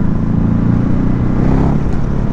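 A 2022 Ducati Hypermotard 950SP motorcycle accelerates to overtake on the road, its engine giving a steady, loud, close drone with rising throttle and wind rush throughout.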